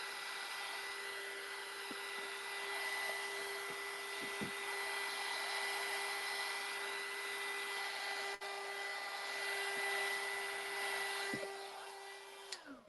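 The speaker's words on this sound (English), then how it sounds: "if I see that they have bubbles, I'll go ahead and use the heat gun again" A heat gun blows steadily over resin to lift bubbles, a continuous airy whoosh with a fixed hum that runs for about twelve seconds, a few faint clicks under it, before fading at the end.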